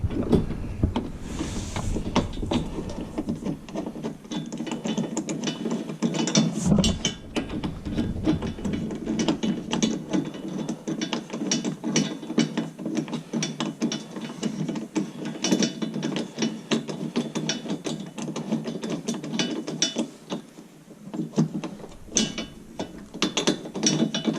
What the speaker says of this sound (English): So we're gonna screw that in.